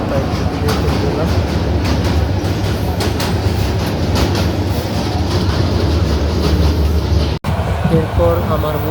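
A passenger train heard from inside a carriage gives a loud, steady rumble with rattling clatter throughout, broken only by a brief dropout near the end.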